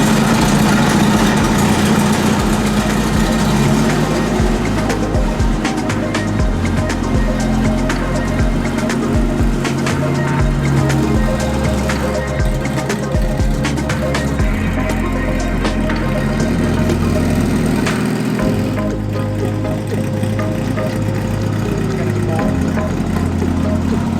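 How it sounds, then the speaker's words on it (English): A Beck 550 Spyder's engine runs loud and close on a chilly day in Georgia, a rough low rumble with a fluctuating idle and occasional revs, steady throughout with no talk. "And Jonathan, the starter button for my car is right here on the console."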